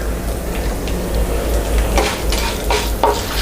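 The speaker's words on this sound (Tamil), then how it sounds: "இந்த 3ஐயுமே சிம்மில் வச்சுட்டு நம்ம நல்லா செவக்க வறுத்துக்கலாம்." Chana dal, fenugreek and red chillies dry-roast in a pan, stirred with a rustling scrape and a few light clinks. A steady low hum runs underneath, and there is no talk.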